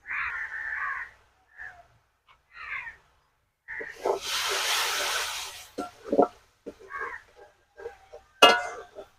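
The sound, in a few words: water added to frying spices sizzling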